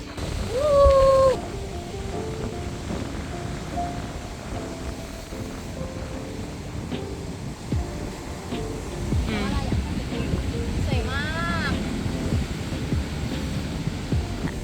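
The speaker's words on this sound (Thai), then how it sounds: "ลมแรงมาก" Strong wind blows outdoors at a seaside viewpoint in Taiwan, a steady roaring rush with microphone buffeting, a louder gust at the start and faint voices and chirps in the background.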